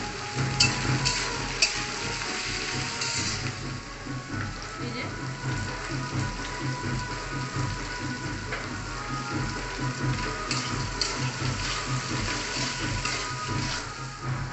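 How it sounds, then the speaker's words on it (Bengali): Vegetables fry in a pan for khichuri, a steady close sizzle with occasional stirring scrapes and crackles, fairly loud and constant throughout. "এটা দিয়ে একটু ভেজে নেওয়া হবে। দিয়ে দিলাম, ভেজে নেবো।"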